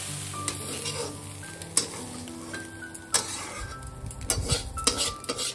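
Shrimp fritters fry in a little oil in a pan, a steady soft sizzle under occasional sharp clinks and scrapes of a utensil stirring against the metal, with no voices.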